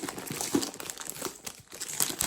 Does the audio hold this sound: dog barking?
no